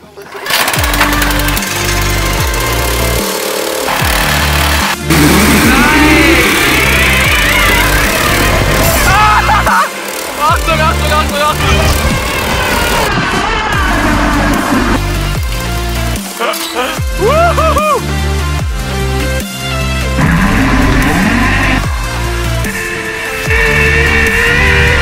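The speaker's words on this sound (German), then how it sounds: "Wollen wir mit dem Motor ziehen?" A motor runs hard to haul a 150 m steel zipline cable across an old quarry, a loud, continuous engine drone with shifting pitch and knocking texture that lasts throughout.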